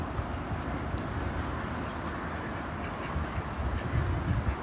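Ducks quack faintly over a steady low rumble of a moving vehicle, their calls scattered and partly buried in the continuous noise.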